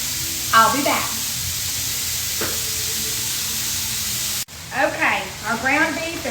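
Ground beef browns in a skillet with a steady, close sizzle and hiss that runs throughout, briefly interrupted by a sharp break, while someone speaks intermittently over the frying.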